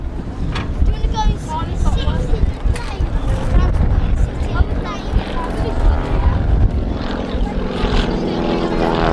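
A propeller aircraft flies low over the Blackpool airshow, its engine droning loudly up close and swelling and fading as it passes. Gusts of wind batter the microphone and a commentator talks over it.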